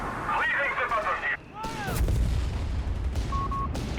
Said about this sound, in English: he's calling in and sending bombardment here